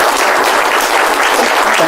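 A magic show audience bursts into dense, loud applause, a continuous wash of clapping hands that holds steady throughout with no voices above it.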